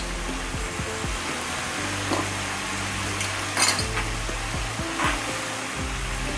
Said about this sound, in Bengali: এবারে এই মশলাটাকে আমি খুব সুন্দর করে কষিয়ে নিচ্ছি